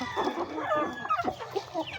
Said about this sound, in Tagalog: ito po ang ating mga manok mga ka-farming dito sa backyard